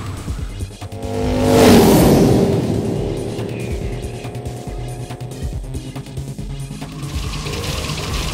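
A transformed motorcycle engine accelerates in a drama CD effect, a loud rising whine sweeping upward and past, then settling into a sustained high-speed roar with tire-like squeal.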